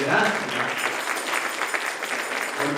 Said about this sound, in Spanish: le dé un aplauso fuerte al Señor